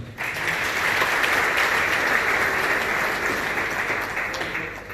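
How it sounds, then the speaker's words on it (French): Sustained applause from an audience of entrepreneurs in a hall at a business program launch in Goma, a dense, even wash of clapping lasting nearly five seconds. "veuillez applaudir pour vous-même"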